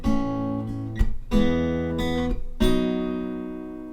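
Fingerpicked acoustic guitar chords ring out in a slow progression, three strummed-and-picked chord changes with sustained decay, close and unaccompanied.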